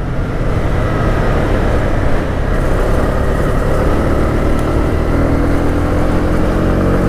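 A Honda CB300R 300cc single-cylinder motorcycle engine runs steadily and loudly up close, holding a continuous drone that rises slightly partway through, with no voices over it.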